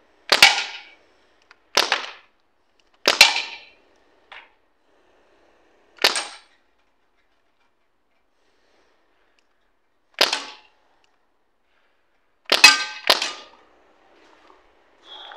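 A Crosman 1077 air rifle fires at a tin can, about nine sharp cracks with brief metallic rings, spaced irregularly across quiet gaps, some in quick pairs, close and alone without talk.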